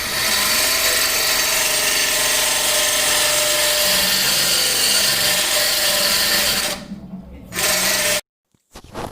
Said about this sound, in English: the grinding wheel is going to be grinding the beveled edges